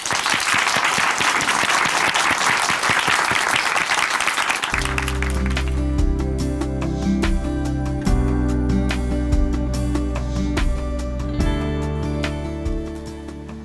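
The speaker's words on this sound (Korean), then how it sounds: "춘천한마음교회 윤정자 자매님 큰 박수로 모시겠습니다" A church audience gives loud applause to welcome a speaker. The clapping is strong for several seconds, then continues under a sustained musical accompaniment before gradually fading.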